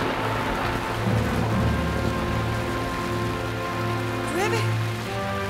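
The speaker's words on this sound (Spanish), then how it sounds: "¡Llueve torrentes!" Heavy rain pours steadily and loud as a radio drama sound effect, with a continuous broadband wash and a faint rumble of thunder underneath, while a low voice murmurs in the background.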